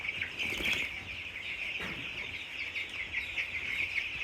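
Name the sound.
chickens clucking and flapping in video game Dying Light 2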